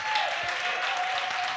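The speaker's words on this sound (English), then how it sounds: "Clap for him" A church congregation claps and applauds steadily throughout, a dense wash of hand claps with a faint sustained tone underneath.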